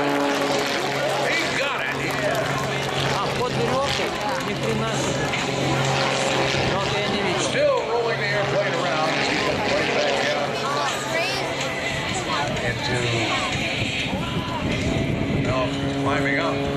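An aerobatic airplane flies knife-edge at an air show in Vero Beach, its engine drone steady and moderately distant beneath continuous loudspeaker commentary and crowd noise throughout.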